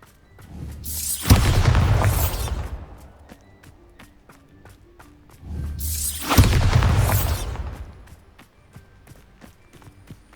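Two loud, booming spell explosions from the Bombarda charm in Hogwarts Legacy, each a sharp broadband blast that rumbles and decays over a couple of seconds, separated by a short quiet gap.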